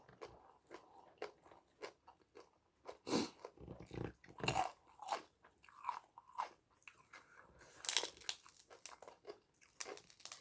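Close-up crunching and chewing of crispy fried pork rinds eaten with spicy papaya salad, with irregular loud crisp bites and softer mouth sounds throughout.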